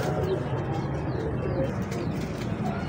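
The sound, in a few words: pigeons cooing after release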